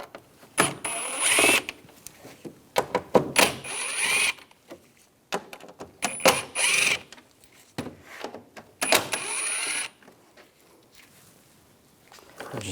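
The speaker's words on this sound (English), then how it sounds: "We're going to remove these screws up on top." Up close, a ratchet with a T25 socket removes the top screws of the front lower grille on a 2010-2014 Volkswagen GTI, repeating bursts of fast metallic clicking with brief pauses between them.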